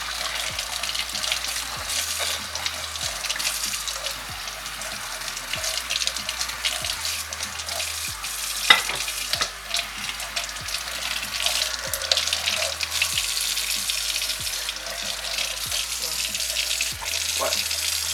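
A faucet runs steadily into a sink for a long stretch, with the water's splash changing slightly as someone puts their head under the stream.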